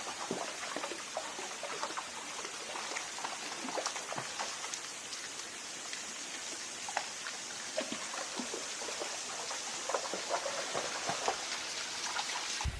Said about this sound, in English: You can just see all the water just running down the rock face.